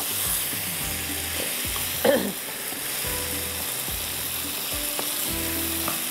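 Palak paneer with ginger and garlic fries gently in a pan on low heat, a soft continuous sizzle with a few stirring scrapes and clinks of a spoon against the pan.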